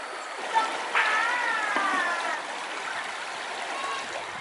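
Water of the Waikrui river, a dirty west-coast stream, splashing and trickling steadily at close range, with a brief louder splash early on and faint voices in the background.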